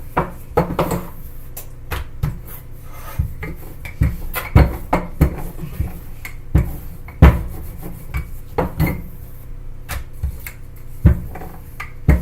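Homemade crispy pocket crisps crunch and crackle in irregular bursts, sharp close snaps spaced a second or so apart over a quiet background, with no talking.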